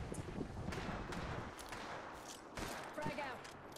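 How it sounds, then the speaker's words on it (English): Apex Legends gunfire in a battle royale match: bursts of rapid shots crackle in uneven clusters, some near and some farther off, layered over a busy game soundscape. "They're getting shot at."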